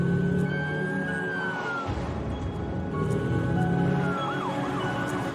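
An ambulance siren wails in an ambulance simulator video game, its rising and falling tones weaving over a steady engine-like hum. The siren is moderately loud and there is no talking.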